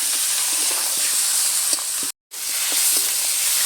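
Masala-marinated chicken stir-fried in a pan for lemon curry chicken gives a steady close sizzle and hiss, with faint stirring scrapes and a brief dropout partway through.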